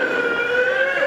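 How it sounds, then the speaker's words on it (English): Emergency sirens wail along city streets on New Year's, a steady rising-and-falling tone heard at moderate distance, with no talk over it. "the sound of sirens rings in the new year"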